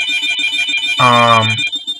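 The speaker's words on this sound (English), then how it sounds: "That's my house phone." A house phone rings with a single bright electronic burst in the middle, loud and close, against a steady high-pitched background hum in a room.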